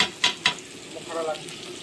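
Cardamom, cinnamon, bay leaves and ground pepper fry in oil and are stirred, with two sharp spoon taps followed by a soft sizzle and scraping, close and brief.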